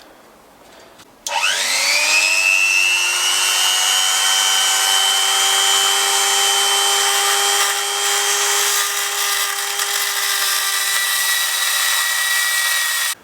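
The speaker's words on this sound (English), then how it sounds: "take off the wheel, and to do that I'm going to grind off, hopefully, the end" A rotary tool grinds off the end of a model van's axle on a Dinky toy, starting abruptly after a quiet moment and holding a steady high whine close up to the end.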